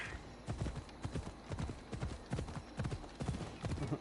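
Horse hooves clip-clop in a steady, even rhythm in the Assassin's Creed Odyssey video game, close and fairly loud with no other sounds.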